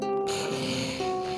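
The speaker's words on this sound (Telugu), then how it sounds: "అప్పుడు అతనికి ఆ నక్క గురక శబ్దం వినిపించింది." A cartoon fox sleeping in Little Red Riding Hood snores with a drawn-out, nasal, droning breath that breaks off and starts again, close and alone.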